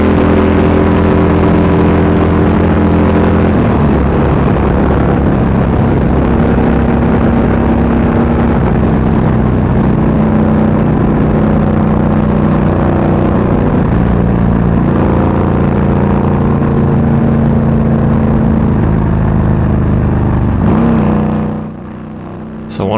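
Harley-Davidson Street Glide Special with a Milwaukee-Eight Stage IV engine and ThunderHeader exhaust on a test ride, a loud, steady engine drone with wind roar that carries on throughout, lightly rising and falling, then cuts off at the end.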